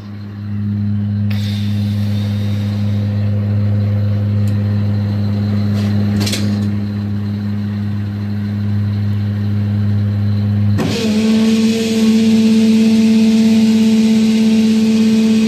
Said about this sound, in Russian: Насос включил.